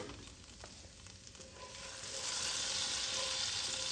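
Garlic sizzling in a pan while being stirred, the frying hiss low and steady at first and then swelling louder and denser after a couple of seconds, heard close with no voices.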